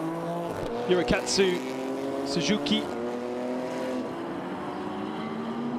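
GT race cars run laps during qualifying at the Okayama circuit, engines droning steadily with a couple of louder passes, heard under a commentator's continuous talk.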